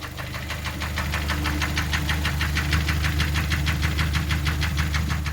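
A high-mileage car engine with a chronic fault runs steadily, producing a rapid, regular knocking tick over a low, continuous engine drone, close and fairly loud throughout with no talking.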